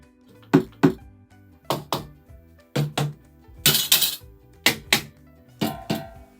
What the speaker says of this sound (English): Oh, this plastic milk bottle would be perfect for my bass drum.